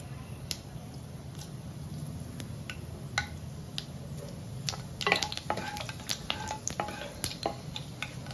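Panch phoron spices and a dried red chilli crackle in hot oil, with scattered sharp pops and ticks over a low steady sizzle, close by.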